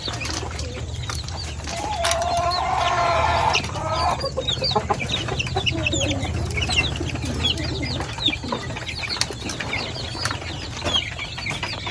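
Chickens and young chicks cluck and peep at a rural farm in the province while chicks are warmed in the sun, with steady scattered calls and a brief louder rooster-like call, over a constant low background hum.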